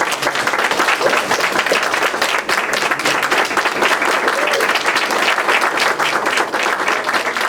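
A theater audience at a playwrights festival breaks into sustained, loud applause, dense clapping filling the room without a break.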